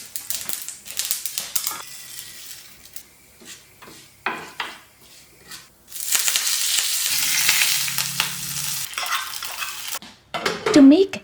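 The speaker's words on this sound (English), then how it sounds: "To make the tadka with a teaspoon of oil, mustard seeds, urad dal and curry leaves." A tadka of a teaspoon of oil with mustard seeds, urad dal and curry leaves in a pan, giving scraping and stirring at first, then a loud steady sizzle that swells midway and ends with a few pops.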